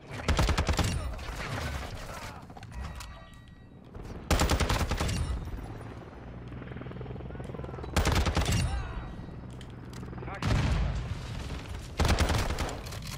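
Loud, close bursts of shotgun fire from the video game Modern Warfare 2 come in repeated blasts every couple of seconds, with softer game sounds and voices talking between the shots.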